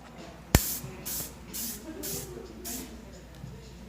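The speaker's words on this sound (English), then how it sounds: "I'm just going to make sure when I'm spraying that the nozzle is pointed downward" Hairspray hisses from a downward-pointed nozzle in a series of about five short, rhythmic bursts, close and fairly soft, preceded by a sharp click.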